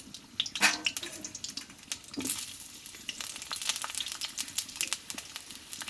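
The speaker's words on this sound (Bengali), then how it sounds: "এখানে কয়েক পিস আলু নিয়েছি, আলুটাকে একটু তেলে কষে নেবো আগে।" Potato pieces frying in hot mustard oil in a pan, giving a steady close sizzle with scattered crackles and pops throughout, with no talk over it.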